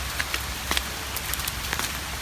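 Steady rain falling outdoors along a path leading to a house, a soft continuous hiss with scattered brief drop taps, fairly close and even throughout, with no talk.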